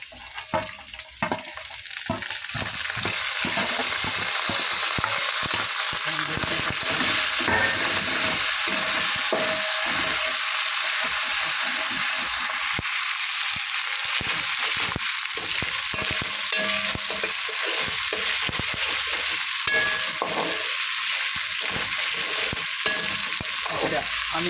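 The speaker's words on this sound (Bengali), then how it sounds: "এটা বিরিয়ানি চিকেনটা রান্না করছি।" Chicken sizzles in hot oil while being stirred for biryani at a small outdoor picnic cook-up, with a steady, loud frying hiss and repeated scraping stirs close by and no talk.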